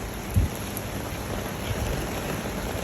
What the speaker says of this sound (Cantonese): 狂風大驟雨。